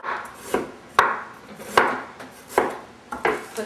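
Ginger is sliced with a knife on a cutting board, giving about six separate, firm thunks at an uneven, unhurried pace, close and clear with no voices.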